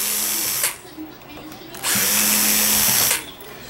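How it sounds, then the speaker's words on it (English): Power drill backing out screws from the lens cover of a Mitsubishi DLP television, two loud close whirring bursts with a brief quiet pause between them. "Let's go ahead and remove these two screws over the lens cover."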